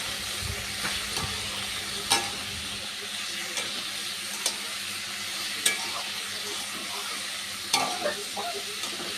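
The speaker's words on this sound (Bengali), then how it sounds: "কুশিটা কিন্তু লবণ হলুদ আর লঙ্কা কাঁচা লঙ্কা চিড়ে দিয়েছি তো কিছুটা ভাজি আর কি হয়ে গেছে" Ivy gourd with salt, turmeric and slit green chillies stir-fries in a pan with a steady, close hiss, broken by sharp clicks of a spatula now and then and no talking.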